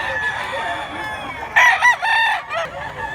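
A rooster crows nearby at a livestock market in Mantalungon, Barili, Cebu, a loud strained call rising and falling over about a second, with quieter clucking and background murmur around it.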